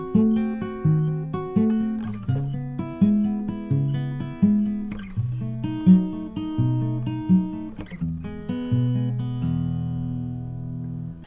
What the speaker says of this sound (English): And then when you pluck, you get sort of a upright bass plucking sound